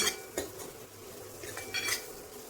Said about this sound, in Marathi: गरम मसाला, हळद। हे छान मिक्स करून घेऊ